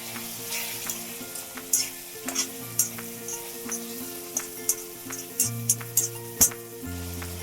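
Chopped tomatoes fry in a pan for a ridge gourd curry, a steady sizzle broken by repeated scraping and clinking stirs of a spoon against the pan, close and fairly loud.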